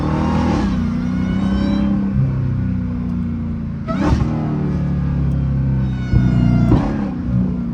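A Dodge Hellcat with a flame-shooting exhaust revs hard in repeated surges, its deep rumble rising and falling with sharp pops between blips, loud and close throughout.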